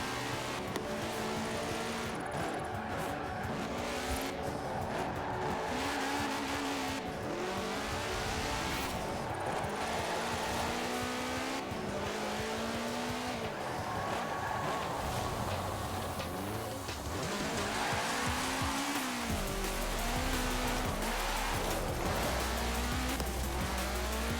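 Car engine in Forza Horizon 4 droning steadily with repeated revving and gear-shift pitch sweeps while driving around, loud and continuous throughout with no talk.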